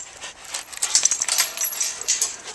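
Dogs pant quickly and breathily up close, a steady hissy rhythm with faint jingling of tags now and then.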